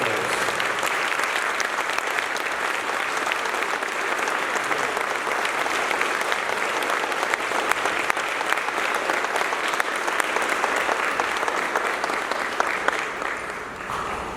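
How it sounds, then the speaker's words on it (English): Sustained applause from a school audience honouring two people, steady dense clapping at full volume for about fourteen seconds before tapering slightly at the end. "Let's give Mike and Tracy a big round of applause for their sacrifice."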